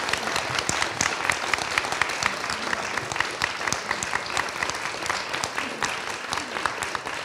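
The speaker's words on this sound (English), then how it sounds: "Let's give them all a round of applause." Steady applause from an audience at a panel discussion, a dense, even patter of many hands clapping continuously, somewhat distant, with no talk over it.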